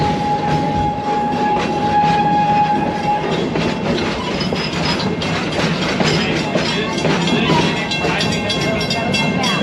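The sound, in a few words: Serengeti Express train ride at Busch Gardens Tampa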